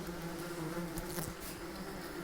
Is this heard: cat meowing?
no